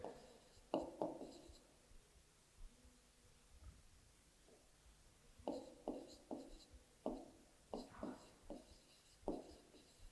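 Marker or chalk strokes on a classroom board during a Class 4 maths lesson, a scattered series of short scratchy squeaks and taps, close and fairly faint, with quiet gaps between bursts.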